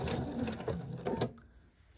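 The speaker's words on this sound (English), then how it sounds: "And then sew this right to the middle of the center of the heart." A sewing machine stitches through a recycled quilt heart in a rapid, close, steady whir of needle strokes lasting just over a second, then stops and leaves near silence, with no talking.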